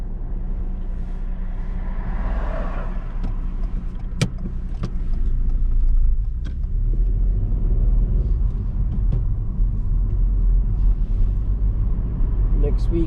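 A car on a driving test rolls along a road with a steady low engine rumble and road noise, a few faint clicks and taps over the top, with no one talking.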